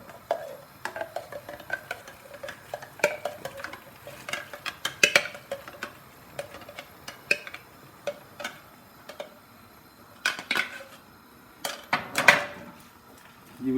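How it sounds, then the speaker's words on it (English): A utensil whisks mango puree into coconut milk in a pot for mango coconut panna cotta, giving scattered light clinks and taps against the vessel with quiet stretches between them. "Add this mango puree into the coconut milk."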